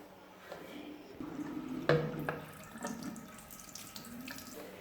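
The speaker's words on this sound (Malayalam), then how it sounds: "നമുക്കിതിൽ വെള്ളം നിറച്ചിട്ട് വരാം." Water runs from a tap into the water tank of a Roborock S5 Max robot vacuum, a steady splashing flow with a brief louder gush partway through, close by and alone.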